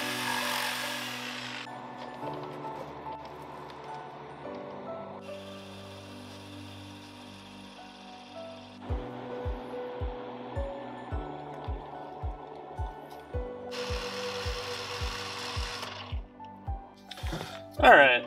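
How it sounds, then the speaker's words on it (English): A saw cuts through a piece of brass stock in a workshop, making a steady run of rhythmic rasping strokes that end in a louder clatter, with mechanical hum and tonal whine in the background. "I'm gonna cut a piece of this brass off and make a little wine stopper for my wife."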